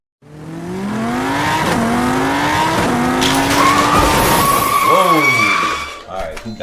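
RC drag race trucks, a Reading Railroad truck and a B&O Railroad Suburban, launch with a loud, sustained whine of motors and squealing tires, rising in pitch as they accelerate, then fading toward the end amid faint crowd voices.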